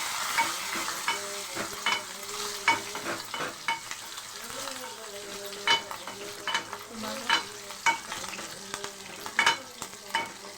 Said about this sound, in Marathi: चांगला परतून घ्यायचा लाल होईल तेल टाकलं होतं